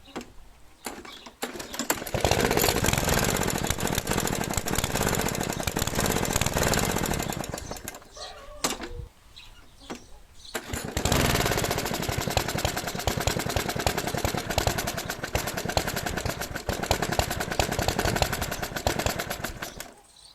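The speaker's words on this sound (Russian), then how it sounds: "заводится и двигатель пульсирует, работает нестабильно, обороты плавают" A lawn mower engine runs loudly with a rough, sputtering pulse, its revs fluctuating unstably, briefly dipping and nearly stalling midway before roaring back unevenly.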